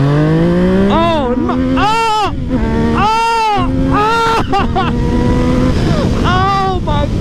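A Yamaha MT-09 motorcycle fitted with an Akrapovic exhaust and a flashed ECU rumbles loudly, its engine note climbing steadily, while someone talks excitedly over it.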